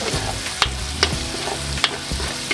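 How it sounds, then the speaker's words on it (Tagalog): Onions sizzle steadily in a hot pan for ampalaya guisado, with a loud close frying hiss broken by a few sharp scrapes of a spatula stirring them around. "Okay, lagay na natin sibuyas natin."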